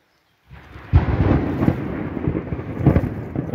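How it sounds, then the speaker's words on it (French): A thunderstorm rumbles outdoors in the woods during a mushroom hunt, with a sudden deep roll of thunder breaking in and a continuous low rumbling growl that swells again, no talking over it. "Et vous entendez derrière un bel orage que je vais surtout me prendre dans pas longtemps."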